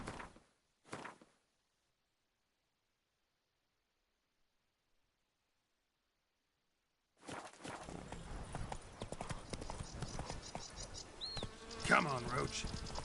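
Hooves of the horse Roach clip-clop in a PS4 video game, a few faint steps at the start, then silence, then a busier stretch of steady hoofbeats with ambient game sounds.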